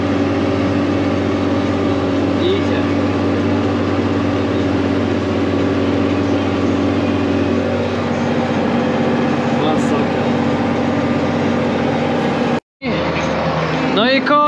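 A tractor on dual wheels labours heavily while pulling a cultivator during deep tillage, its engine droning loud and steady for most of the stretch before a brief cutout and a return, with a voice heard over it.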